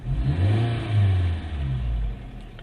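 A Maruti Suzuki Cultus hatchback engine revs under acceleration, heard loud and droning from inside the closed cabin, with the pitch swelling and easing over a few seconds.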